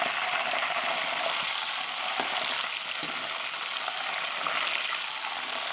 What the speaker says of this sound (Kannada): ಈ ಥರ ಬರ್ತಿರೋ ಸೌಂಡು ಲೈಟಾಗಿ ಕಮ್ಮಿ ಆಗಬೇಕು. ಅಲ್ಲಿವರೆಗೂ ರೋಸ್ಟ್ ಮಾಡ್ಕೋಬೇಕು.